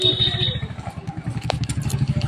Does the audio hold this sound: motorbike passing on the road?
yes